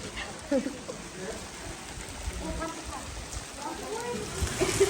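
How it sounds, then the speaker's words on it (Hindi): Torrential rain pouring down in a continuous, enveloping roar with close splashing drops, while someone speaks over it. "तेज बारिश शुरू हो गई है, मूसलाधार बारिश।"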